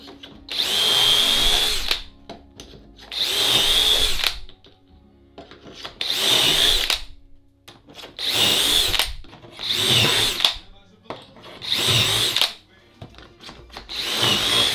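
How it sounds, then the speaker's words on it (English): A power drill bores a series of shelf-peg holes into wood through a drilling jig in six bursts of a few seconds each, loud and close, separated by brief pauses. "you can use this jig to drill a series of holes to adjust a shelf at different heights"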